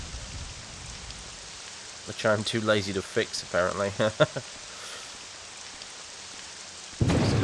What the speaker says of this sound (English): Still raining, even in the ashy bit here.